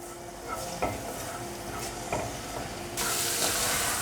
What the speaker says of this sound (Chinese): 锅内放入适量的油，把姜末放进来炒香。